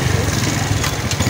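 A motorbike engine running steady and close, a buzzy continuous drone with a faint rhythmic pulse and no clear pauses.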